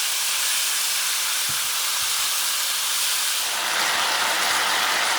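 Smashed plantains sizzle in hot oil with a loud, steady hiss that fills the whole stretch, close by, with faint soft knocks underneath.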